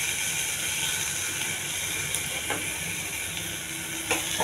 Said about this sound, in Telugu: ఈ పప్పు తీసుకెళ్ళి తాలింపులో వేసేయాలండి